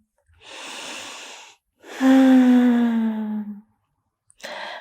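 Slow deep breaths during a stress-relief yoga session: an inhale, then a long audible exhale with a slight wheezy tone, then another breath beginning, close and clear with no talk.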